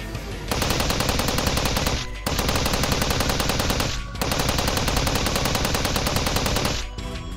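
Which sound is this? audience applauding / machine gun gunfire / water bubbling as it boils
machine gun gunfire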